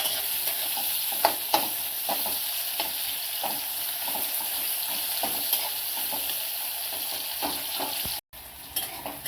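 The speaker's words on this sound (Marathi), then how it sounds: "आता आपण कांदा परतायला टाकणार" Onion sizzles in two spoons of hot oil in a pan for street-style veg noodles, a continuous crackling fry with occasional sharper pops and stirring scrapes, cutting out briefly near the end.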